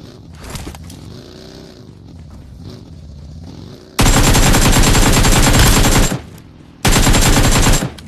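AKM assault rifle fired in PUBG Mobile: two long, loud sustained bursts of automatic fire, the first about two seconds, the second shorter after a brief pause, following quieter game sounds.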